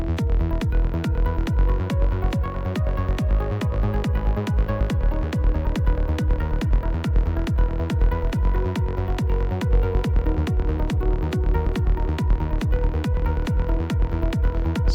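A looped chord progression made by copying the same chords repeatedly plays back with a dense, steady pulse of regular rhythmic hits. It is loud and continuous, with no voices.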